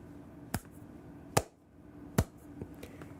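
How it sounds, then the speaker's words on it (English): Three sharp, well-spaced hand claps ring out alone in a quiet room, followed by a fainter fourth one. "I'm going to clap my hands"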